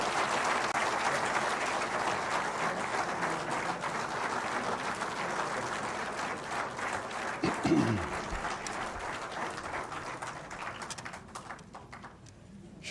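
Sustained applause from an audience at a political speech event, a broad steady wash of clapping that fills the whole stretch and fades slightly near the end.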